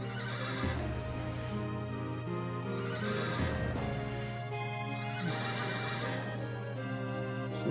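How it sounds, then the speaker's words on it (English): Horse sounds from the retro role-playing video game Wild Arms: repeated whinnies and neighs over steady clip-clopping hooves and a droning game music bed, with no talking. "What do you want me to do with the horses?"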